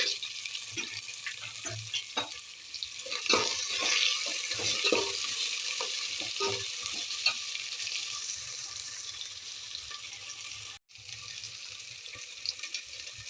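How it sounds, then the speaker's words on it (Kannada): Onion, green chilli, potato and peanuts fry in oil for pudina pulao. A soft, continuous hiss is broken by scattered pops and stirring clatter, with a brief dropout late on. "ಇವಾಗ ಈರುಳ್ಳಿ, ಮೆಣಸಿನ್ಕಾಯಿ, ಆಲೂಗಡ್ಡೆ ಹಾಕ್ಕೊತೀನಿ ರೀ."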